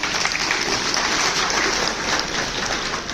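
A seated audience at a sales training session gives a dense, even round of clapping that fills the room for several seconds with no voices over it.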